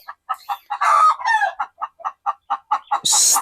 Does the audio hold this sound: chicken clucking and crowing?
yes